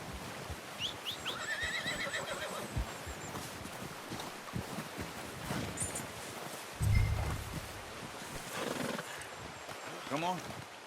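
A horse in the game Red Dead Redemption 2 whinnies loudly near the start, with hoof clip-clops and rustling around it and a snort later, under outdoor ambience.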